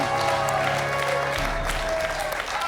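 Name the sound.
audience applause on a French quiz show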